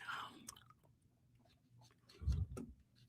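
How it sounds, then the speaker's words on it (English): Faint, close chewing and biting come in short irregular bursts, with a louder crunch near the end, against a quiet background. "you might hear me chewing, but that's actually Clubber chewing"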